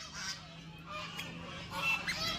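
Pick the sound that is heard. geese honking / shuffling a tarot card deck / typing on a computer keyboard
geese honking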